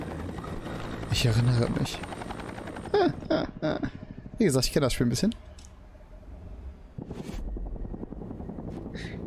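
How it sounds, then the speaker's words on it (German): A helicopter's rotor chop in the video game XIII (Remake) rumbles under someone speaking in German, with clicks and sharp game sound effects popping in and out. "Der Helikopter"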